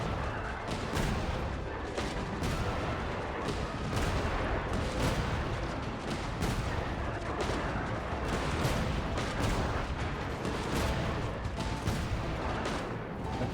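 Genshin Impact's Wild Hunt Shooting Gallery erupts in a steady stream of blasts and shots, many sharp overlapping impacts popping at a quick uneven rhythm over constant background game sound for the whole stretch.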